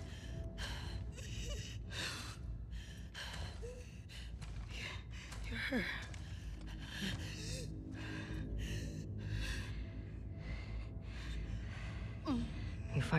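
Strained, labored breaths and gasps from an injured character in The Last of Us Part II, recurring through a dark, rumbling game ambience, with a whimpering sigh partway through.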